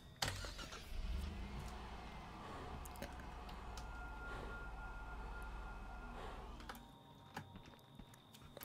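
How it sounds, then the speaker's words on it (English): A car driving off inside the video game Friday the 13th: The Game, a steady engine rumble that holds for several seconds and then drops away, heard alone at moderate level without talk. "I heard the car going."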